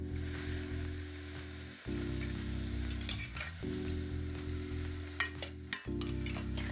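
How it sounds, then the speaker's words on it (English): Soaked barley being added to a frying pan with onion, with a loud, steady sizzle over a low hum, broken by a few scraping scoops and clinks of a spoon, no voices. "Now it's time to add the soaked barley."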